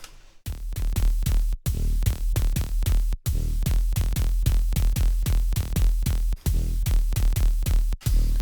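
A heavy tearout dubstep bass synth made in Serum 2, with its effects turned off, pulses in a fast repeating rhythm, loud and dry, with brief dropouts between phrases.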